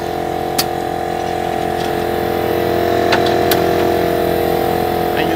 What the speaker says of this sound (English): If you guys press number two, you guys gonna be able to turn on your air compressor.